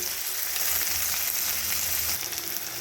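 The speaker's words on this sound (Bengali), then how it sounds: "ফোড়নটা আসার পরেই এর মধ্যে দিয়ে দিচ্ছি কুচিয়ে রাখা পেঁয়াজ সাথে লঙ্কা কুচি" Chopped onion and green chilli hit hot oil tempered with asafoetida, giving a dense, continuous sizzle close up for a few seconds.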